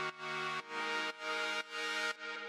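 A sustained harmonic sample treated with fast, high-rate vibrato, its pitch wobbling quickly while the tone pulses in a steady repeating chop of roughly half-second sections, heard alone.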